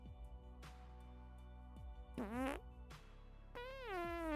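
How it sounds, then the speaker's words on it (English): A series of comic fart noises, some short and low, others long, rising and squeaky, comes loud and close through a live stream, with no voices over them. "It's the farts."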